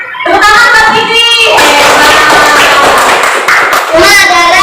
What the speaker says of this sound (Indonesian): Tepuk tangan buat Fikri.